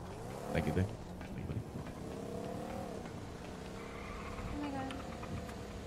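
A car engine in GTA hums and revs in rising and falling tones, moderately loud, with brief mechanical clatter near the start.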